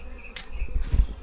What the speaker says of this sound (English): somebody raised bees over here